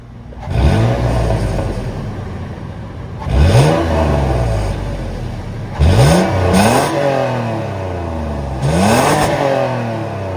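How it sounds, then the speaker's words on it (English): A 2022 Toyota 4Runner's 4.0-liter V6 is revved repeatedly while parked, four rising blips that swell and fall back to a steady idle, loud and close with no talking. "that was a surprisingly aggressive sound of the 4-liter V6 sold by Toyota for this 4Runner"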